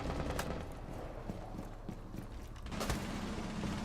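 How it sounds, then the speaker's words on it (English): Magazine swap reload in an Xbox esports shooter match: quick mechanical clicks and clatter buried in a constant wash of loud game noise, with a heavier clack near the end. "Swapping mags."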